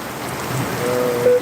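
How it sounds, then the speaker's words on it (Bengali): Steady heavy rain hisses down on a road in Phulpur, a constant wash of noise with long-distance vehicles passing, and a faint tonal whine creeping in near the end. "দেখতে প্রবল হচ্ছে এই সারা বৃষ্টি"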